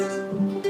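Single thumb-plucked ukulele string, palm-muted, giving a short, dull, damped note that is fairly quiet and close, with no talk over it.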